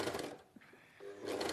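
A sewing machine runs in short close bursts as it stitches over a thick seam, with a brief pause between the bursts.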